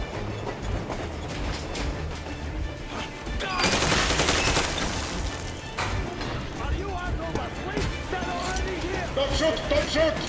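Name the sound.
gunfire in the video game Metro Exodus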